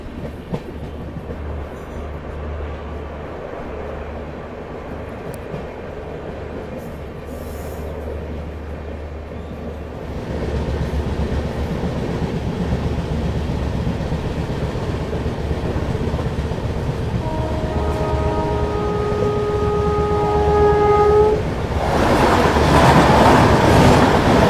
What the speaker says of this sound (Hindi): मेन लाइन पे हॉल्ट था तो गाड़ी हमारी तेज एक्सेलरेट करेगी।